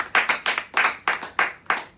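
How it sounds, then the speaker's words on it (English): An audience at a speech claps hands in a steady rhythm, about seven sharp, evenly spaced claps in two seconds, close and fairly loud, with no talk over them. "You people can clap. Don't you feel pain in your palm?"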